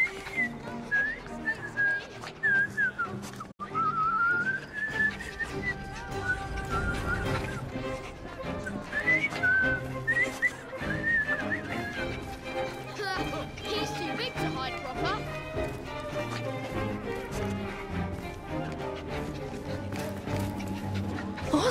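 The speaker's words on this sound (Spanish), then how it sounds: "Acabo de aprender a silbar." A character whistles a wavering melody in the Assassin's Creed Syndicate video game, the whistling rising and falling over a busy street-like background, with people talking around it.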